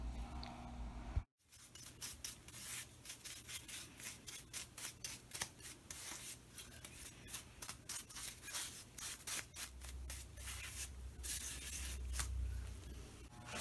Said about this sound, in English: now we're going to apply one coat of orange shellac